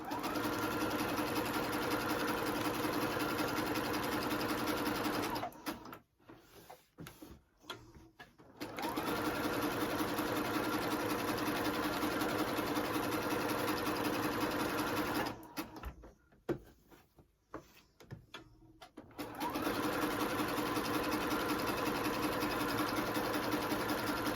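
A sewing machine, operated with a knee lift, runs in steady, loud stitching bursts around a cloud shape, stopping twice for a few seconds of near quiet before starting up again.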